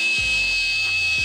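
A rotary polisher running on speed 1 works gold standard polish into white car paint, giving a steady close whirring hum with a slight pitch change as it is pressed along edges.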